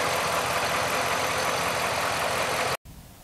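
Ram 1500 pickup with a 5.7-liter V8 idling, a steady loud rumble with broadband hiss that cuts out abruptly near the end, no talk.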